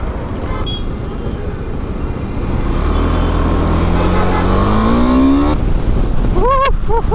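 A KTM 390 Adventure motorcycle engine rising in pitch as it revs up through a steady drone, close and loud, ending with a short sharp wobble of higher tones.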